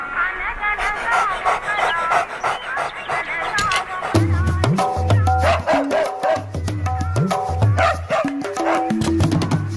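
A dog in a Telugu comedy film scene gives short yipping barks and whimpers in quick bursts, mixed in with voices and other scene sound.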